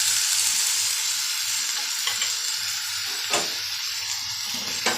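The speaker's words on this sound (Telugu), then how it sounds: "తొందరగా ఫ్రై అవుతాయి మామిడికాయ టమాటా ముక్కలు" Mango and tomato pieces frying in a pan give a steady close sizzle, with a few soft stirring scrapes breaking through now and then.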